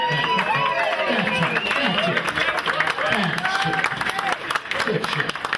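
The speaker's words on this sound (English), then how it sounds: "Let's hear a round of applause." A round of applause at a farewell gathering for a TV station crew, dense clapping mixed with loud crowd chatter and voices over the top.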